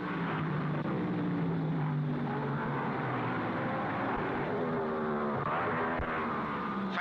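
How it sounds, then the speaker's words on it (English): 1955 Formula 1 racing cars at the Monaco Grand Prix, a continuous loud engine drone with shifting pitch as cars pass and brake, steady throughout with no talk, on an old muffled recording. "Moss passes Castellotti's Lancia on the braking"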